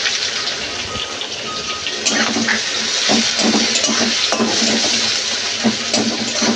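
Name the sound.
onions frying in oil with cardamom and cinnamon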